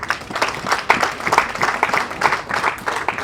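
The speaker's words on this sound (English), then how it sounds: "let us who are uniformed give a loud applause to our spouses" Uniformed soldiers of the UPDF applaud their spouses at a ceremony at Makerere, a ragged spread of clapping with distinct hand strikes rising and falling steadily throughout, moderately near and without talk.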